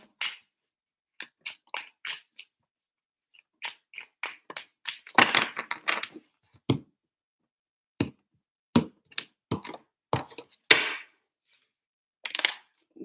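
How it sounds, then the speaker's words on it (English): Tarot cards being shuffled by hand in a quiet room: sparse soft clicks and taps, with a couple of short riffling bursts around the middle and near the end. "3 shuffles for Scorpio"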